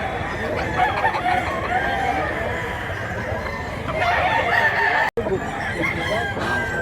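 Roosters crow again and again among clucking chickens for sale at a market in Mantalungon, Cebu, with steady crowd noise beneath.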